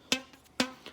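A shortened rubber band string plucked twice with bright snappy twangs, then a fainter third pluck, close and quiet with no voices.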